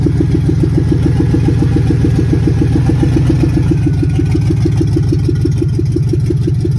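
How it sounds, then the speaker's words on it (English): An SUV engine with an exhaust leak, catalytic converter apparently cut out, idles loudly and steadily close by, its rough, rapid exhaust pulses chugging evenly throughout. "Sounds like the catalytic converter's been cut out on it."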